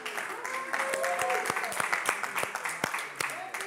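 Audience applause for a local band at a live show, a dense steady patter of clapping with scattered whistles and cheering voices throughout.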